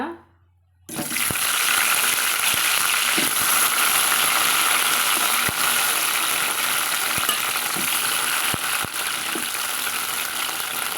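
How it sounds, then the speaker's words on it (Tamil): Steady, loud sizzling of eggplant sautéing in hot oil, with occasional scraping clicks of a spoon stirring the pan. "இது கூட நம்ம நறுக்கி வச்சுக்கிறேன் கத்திரிக்காய் வந்து சேர்த்து வதக்கி விட்டுக்கலாங்க"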